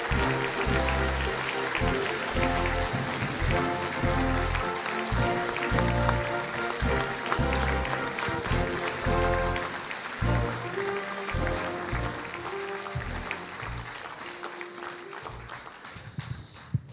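Audience applause at a benefit gala honouring Marek Sewen, part of the XI Forum Humanum Mazurkas, heard as steady sustained clapping, loud and continuous, blended with music and possible background sound, fading slightly toward the end.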